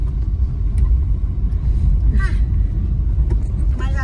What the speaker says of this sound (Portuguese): Porque esse carro aqui não é pra estrada de terra.